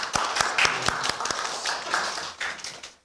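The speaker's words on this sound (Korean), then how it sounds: "한옥렬 교수님의 발제를 박수로 청하도록 하겠습니다." Light, scattered applause from an audience at an academic forum welcoming a professor's presentation, with distinct individual claps loudest early and then thinning out.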